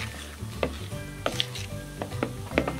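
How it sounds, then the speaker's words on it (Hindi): A spoon stirs rava idli batter after Eno is added, scraping the bowl in short repeated strokes while the mixture fizzes softly and steadily underneath, close and with no voices. "इनो जैसे ही डालते हैं, इसको मिक्स करते हैं, तो किस तरह से बबल्स आ रहे हैं"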